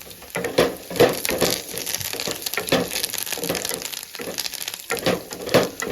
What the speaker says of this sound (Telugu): బాగా వేగుతుంది ఇప్పుడు కరేపాకు వేసుకున్నామండి ఇప్పుడు బాగా కలుపుకోవాలి